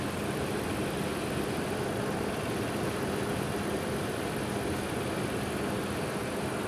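A car engine idles steadily while water is sprayed onto the ribbed side of its serpentine belt, producing a constant, even broadband whir with no distinct squeal, close and moderately loud throughout.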